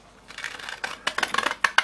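Scissors blades being sharpened by hand, drawn repeatedly along a sharpening tool, giving a rapid series of close, crisp scraping strokes that grow more distinct and emphatic toward the end.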